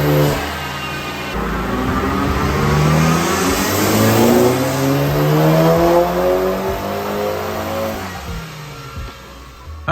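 A stage 2 Volkswagen Golf GTI engine revs hard on a dyno mapping run, pitch climbing steadily through the gears in a long loud pull, close and alone, then easing off near the end.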